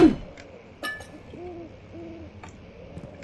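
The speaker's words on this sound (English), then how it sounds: "You see that, Hootie Owl?" An owl in Amnesia: The Dark Descent gives a few soft, rounded hoots in slow succession, set against quiet ambience with a few faint clinks and no talk.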